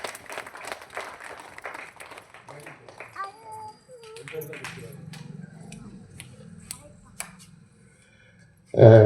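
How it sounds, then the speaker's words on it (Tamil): Audience in a church, at a Sunday Mass event, breaks into scattered clapping that builds into brief applause, with voices and a child's chatter mixed in before a loud burst at the end. "எல்லாரும் கைத்தட்டி பார்க்கலாம்"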